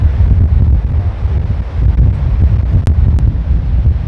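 Strong wind buffets the microphone on a seaside golf course, producing a continuous loud low roar with no break.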